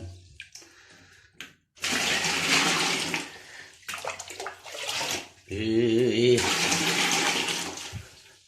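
Cold water scooped and poured over a person bathing the old-fashioned way in a bathroom, several heavy splashing pours in separate bursts with short quiet gaps, and a voice speaking between them.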